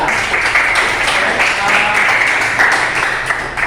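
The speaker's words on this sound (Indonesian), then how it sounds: "Beri tepuk tangan untuk kelompok 2" Classroom applause for a student group, a steady wash of many hands clapping throughout at moderate loudness, with no voices standing out.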